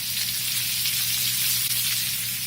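Steady, close sizzling of guanciale frying in a pan, a continuous crackling hiss with no talking.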